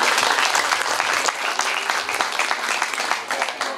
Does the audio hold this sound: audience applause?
yes